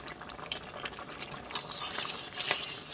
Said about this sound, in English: it is starting to boil, and I can't stir it down